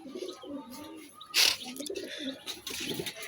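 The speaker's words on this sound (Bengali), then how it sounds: "এই দেখেন থরে কবুতরগুলো গোসল দিতেছে আজকে" Pigeons cooing softly as they bathe in reddish potash water, a low murmuring coo repeated over a few seconds with one brief louder burst of splashing or wing flutter in the middle.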